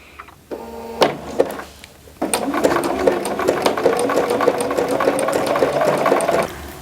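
A computerized sewing machine stitching a decorative pattern, starting after a few clicks and then running in a steady, loud, close mechanical whir with rapid needle ticking, alone without talk.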